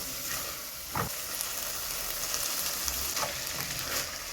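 Cooked vegetables with turmeric sizzle loudly in a pan as rice is mixed in. A continuous close frying hiss runs throughout, broken by a couple of stirring scrapes.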